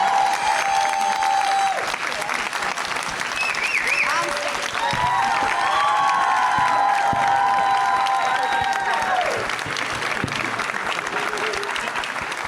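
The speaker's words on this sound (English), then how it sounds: "if we could give them another round of applause" A crowd at TwitchCon applauds steadily throughout, with dense clapping, scattered cheers and whistles, and voices calling out over the noise.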